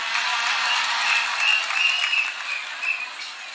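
Sustained applause from a rally crowd in Nairobi, steady clapping with small swells, fairly loud and continuous throughout, with no speech over it.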